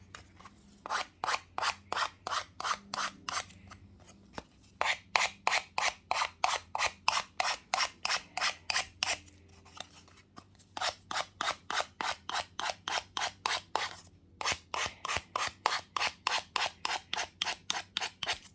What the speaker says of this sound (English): very quickly just go around your edges just to get rid of any of the napkin that's overhanging